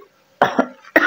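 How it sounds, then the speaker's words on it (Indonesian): A person with a lingering cough gives two short, sharp coughs close to the microphone after a moment of silence, the second cut off at the end. "Ini masih batuk."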